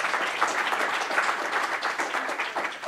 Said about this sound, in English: Indeed, round of applause